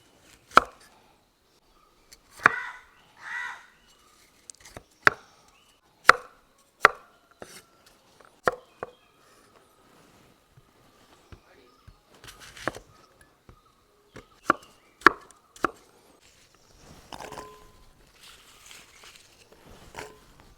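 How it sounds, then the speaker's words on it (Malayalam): Knife strikes on a cutting board as apples, carrots, gooseberries, ginger and beetroot are chopped for juice: sharp, irregular close chops, sometimes in quick bursts, with quiet gaps between. "നമുക്ക് ആദ്യം നമ്മുടെ ഈ ഫ്രൂട്ട്സ് എല്ലാം നമുക്കൊന്ന് കട്ട് ചെയ്തെടുക്കാം"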